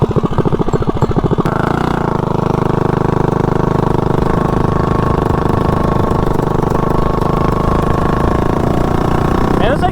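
A Rascal GT drag mini bike engine runs close by, a loud, rapid chugging putter at first that settles into a steady buzzing drone for the rest of the clip.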